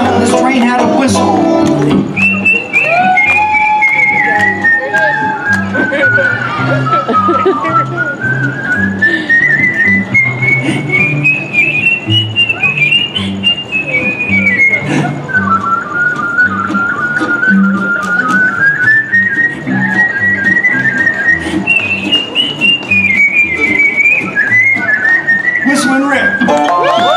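A person whistles a long wavering tune imitating a train whistle, sliding up and down in pitch over a rhythmic backing beat during a live hillbilly boogie band show.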